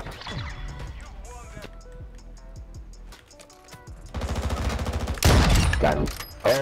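Video game gunfire with a sniper rifle in a multiplayer match, sharp cracks and bursts mixed with clicks, impacts and game effects, growing louder and denser toward the end, with players talking over it.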